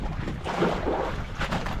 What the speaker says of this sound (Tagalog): kaya sobrang lakas ang hangin